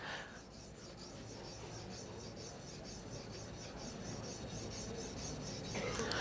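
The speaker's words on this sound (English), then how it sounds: "you're kind of hitting the blade on the stone, and you kind of start sharpening it." A knife blade sharpened on a whetstone makes a continuous, quiet gritty rasp of steel rubbing stone, close up and steady with no talking.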